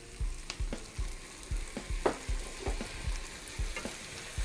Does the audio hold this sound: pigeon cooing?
no